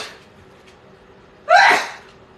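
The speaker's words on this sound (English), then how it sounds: "I had to go sneeze away from the camera and the food" A single loud sneeze set off by black pepper while cooking Christmas dinner, sharp and close after a quiet pause, with a breathy tail fading out.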